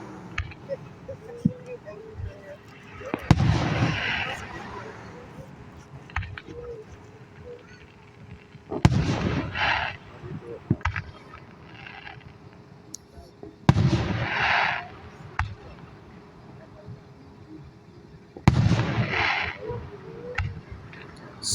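Fireworks at a Niles display bursting in several loud booms spaced a few seconds apart, each followed by crackling, over a steady outdoor background with people talking.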